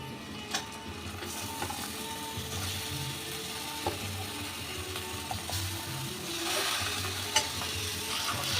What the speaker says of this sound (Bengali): মাংসটা এবার আমি একটু ভেজে নেব